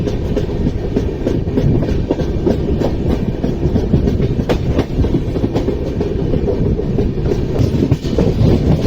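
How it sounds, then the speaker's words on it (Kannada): Janshatabdi Express train number 12080 on the Hubballi to Bengaluru route pulling into platform one at Chikkajajur Junction, a loud steady rumble with rhythmic wheel clatter close by, no voices. "1ನೇ ಪ್ಲಾಟ್ಫಾರ್ಮಿಗೆ ಬಂದಿದ್ದು ಟ್ರೈನ್."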